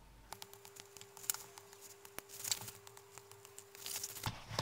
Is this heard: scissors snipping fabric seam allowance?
yes